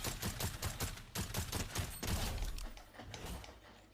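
Rapid bursts of gunfire from the Fortnite video game, a dense run of repeated shots over the first two seconds, then heavier thuds and a fading tail, loud and continuous with no talk.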